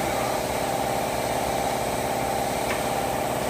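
A horizontal wood band saw runs steadily after starting, a continuous broadband mechanical whir and hum with no breaks, close and moderately loud, with no voices.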